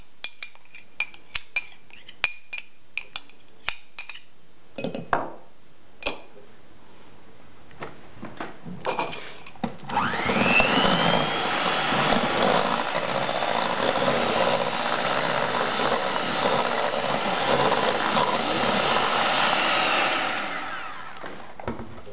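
An electric hand mixer beats kefir cake batter with sunflower oil in a bowl, starting with clinks and scraping, then a loud steady whirring drone for about ten seconds before it stops.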